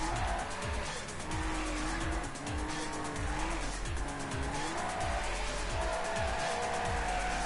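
Cars drifting in the tabletop racing video game Table Top Racing, with loud, sustained tire squeals sliding up and down in pitch over a steady engine drone, continuous throughout with repeated skids.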